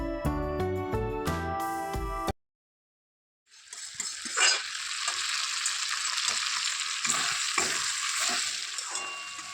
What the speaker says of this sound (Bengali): বেটে রাখা মশলা আর লঙ্কা হলুদটাও দিয়ে দিলাম ওর মধ্যে দিয়ে একেবারে কড়ার মধ্যে দিয়ে কষাতে লাগলাম